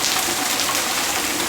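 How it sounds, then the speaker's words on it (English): Heavy rain pounds on a car from outside, making a dense, steady hiss of drops on the roof and windows that never lets up and is heard from inside. No one speaks. "It is raining so hard now"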